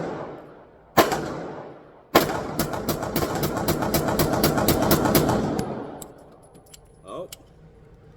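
A Derya DY9 pistol fires 100 rounds rapidly during a 5,000-round burndown test, with loud close shots in a fast, nearly continuous string that stops abruptly, followed by brief talk.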